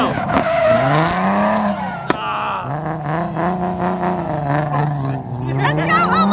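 Drift car spinning out at a drift event, its engine note wavering and dipping as the tires skid, loud and continuous throughout, with excited voices shouting over it.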